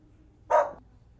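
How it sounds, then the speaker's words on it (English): A dog gives a single sharp bark, fairly close and loud, against an otherwise quiet indoor background. "Oh, hello, doggy."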